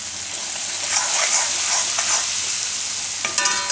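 Spices roast in hot oil in a pan with a loud, steady sizzle and hiss, and a sharp burst of crackling near the end as asafoetida goes in.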